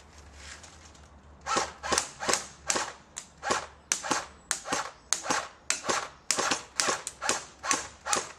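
A Cybergun AK47 Spetsnaz airsoft gun fires about eighteen semi-automatic shots, each a sharp mechanical snap, in a fairly regular rhythm of roughly two per second, close and crisp after a moment of quiet.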